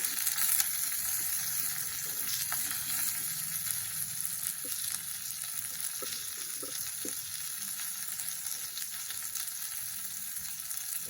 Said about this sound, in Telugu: ఎండు మిరపకాయలు తెల్లగడ్డలు కరివేపాకు కొత్తిమీర కూడా వేసేసుకున్నాను నేను బాగా ఫ్రై చేసుకోండి